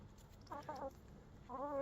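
Garden chickens giving two soft bursts of clucking, faint and close against quiet outdoor background.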